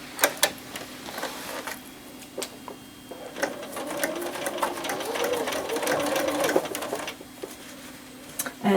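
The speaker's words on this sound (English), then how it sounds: "we're going to sew a 1/4 inch seam along here" A sewing machine stitches a quarter-inch seam on fabric for a flat-bottomed tote bag, running in a steady motorized whir for several seconds with a few ticks and clicks around it, close and moderately loud.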